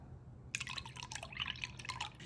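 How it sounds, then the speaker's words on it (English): Vanilla extract splashed into a mixing bowl that already holds a cup of liquid and maple syrup, giving a brief run of close, crisp dripping and trickling over a low, steady background hum. "A splash of vanilla"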